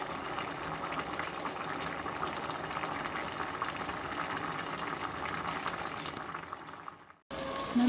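A pot of Isfara-style osh steams and simmers under its lid, giving a steady, close bubbling hiss that continues evenly for several seconds before cutting off abruptly.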